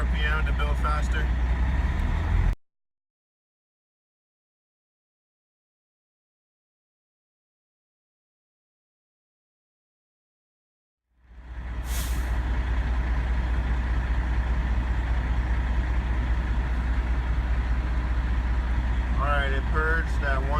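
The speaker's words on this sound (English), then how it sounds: "I'm going to raise the engine RPM to build faster." A truck engine runs at raised RPM to build air-system pressure during an air system test. It is a loud, steady drone that drops out into a long silence partway through, then returns with a brief hiss.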